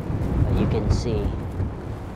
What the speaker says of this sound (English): it's super windy, so if you hear the wind, sorry about that